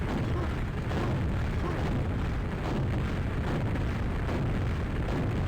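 Rocket launcher fire and explosions in a video game, heard as a continuous, loud, broadband roar of blasts that stays dense and even from start to finish.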